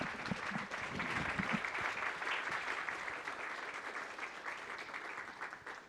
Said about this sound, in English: please welcome Keiko with applause.